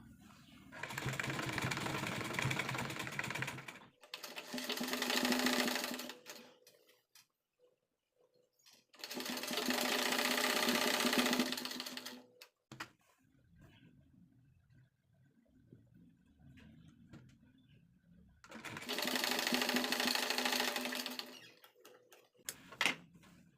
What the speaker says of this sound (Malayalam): ഇനി നമുക്ക് അരികത്തേക്കൂടി ഒന്ന് ഈ ഒരു നെക്കിന് ചുറ്റും ഒന്ന് പതിച്ച് സ്റ്റിച്ച് ചെയ്ത് കൊടുക്കാം.